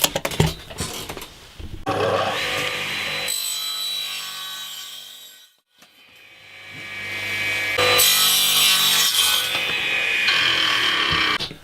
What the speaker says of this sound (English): I'm going to cut a piece at 120mm by 50mm